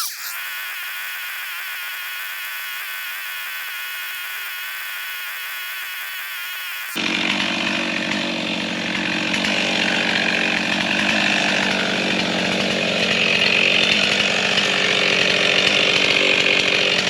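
A flail mower clears overgrown trails with a loud, steady machine drone that starts abruptly partway through and keeps going, getting a little louder toward the end, with no voices.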